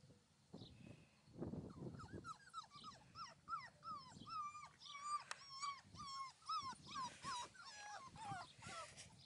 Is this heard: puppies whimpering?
yes